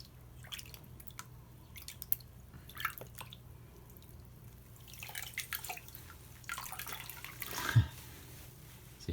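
A dirty foam air filter squeezed in a tub of cleaning water gives soft wet squishes and scattered drips, quiet and close, in irregular bursts that build toward the end.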